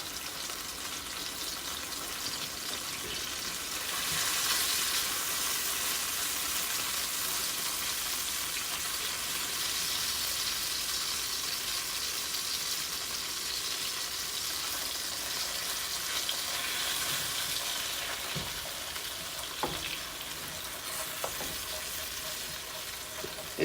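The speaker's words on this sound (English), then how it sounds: "Basting it on top with that wine and that butter." Pork chops sizzle steadily in a pan with melted butter and wine, a continuous broadband frying hiss, a little louder for the middle stretch, with a few soft clinks as the meat is basted.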